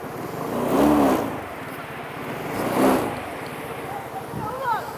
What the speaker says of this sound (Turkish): Şöyle bir gaz verelim.